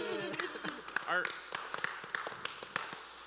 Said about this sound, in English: Are you clapping for him or the degree?